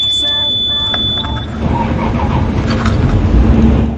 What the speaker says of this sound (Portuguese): Ligou a chave de ignição, apitou, o bicho pega.